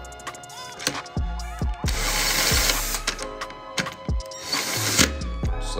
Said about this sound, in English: And then just slowly tighten that back up, but be sure not to tighten it too hard.